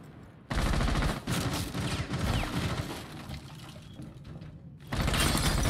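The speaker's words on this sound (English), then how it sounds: "Shooting from the windows." Sustained, loud gunfire pours through windows in Rainbow Six Siege, dense overlapping bursts running almost without pause, dipping slightly in the middle before surging again at the end.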